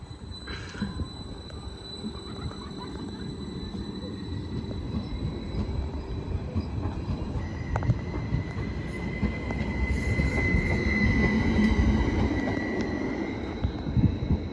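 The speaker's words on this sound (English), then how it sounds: "now departing will be the 1609 Transport for Wales service to Penarth" A Transport for Wales service to Penarth pulls away from Grangetown station, its rumble building gradually as it accelerates, with wheel noise, a rising tonal whine and brief squeals, nearby and growing louder.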